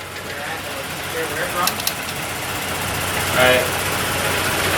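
A freshly installed, built Genesis Coupe engine running after its first start, a rough low rumble with a brief surge partway through, heard close while excited voices talk over it.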